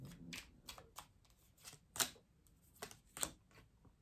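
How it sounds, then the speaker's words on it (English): Tarot cards being handled and drawn from a deck, heard as soft, quiet papery flicks and shuffling clicks spread irregularly over a few seconds, close by, with no voice. "spirit's wanting me to pick a card out of there"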